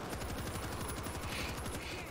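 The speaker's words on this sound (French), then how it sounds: "Malheureusement, ma mitraillette est déjà bientôt à court de munitions." A submachine gun fires in rapid continuous bursts in the World War Z video game, a dense, loud stream of shots with no gaps.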